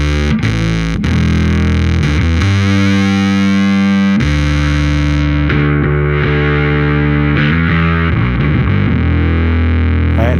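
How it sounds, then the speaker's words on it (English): A Darkglass Anagram Entropia effect block followed by an envelope filter, producing a buzzy, square-wave, synth-like tone. The sound is loud and continuous with heavy distortion, and its pitch shifts in sustained notes throughout, with no voices. "you do get kind of a square wave kind of a sound"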